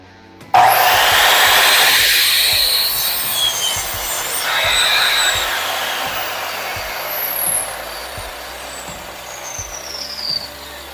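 A Skil 2000W dual bevel sliding compound miter saw starts abruptly with a loud whine and cuts a workpiece, then the blade spins down gradually with a few clunks, all close and without talk.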